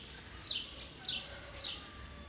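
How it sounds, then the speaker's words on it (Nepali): Morning birdsong: three clear, high chirps repeat about half a second apart against quiet background noise, with no talking. "कस्तो मिठो आवाज आइरहेछ है चराचुरुङ्गीहरूको।"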